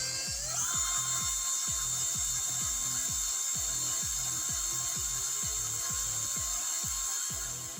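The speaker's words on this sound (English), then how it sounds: "I'm just going to drill it, thread it, and put another M3 in there." A small hand drill bores a hole in a plate for an M3 screw, giving a steady run of rapid, evenly spaced clicking strokes with a constant high whine underneath, close and fairly loud throughout.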